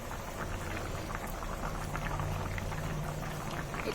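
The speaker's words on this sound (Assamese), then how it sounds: "অলপ সময় এতিয়া উতলি লওঁ ধুনীয়াকৈ" Fish curry with fried fish pieces simmers in a pot on the stove, giving a steady, close bubbling and sputtering that runs evenly throughout, with no voices over it.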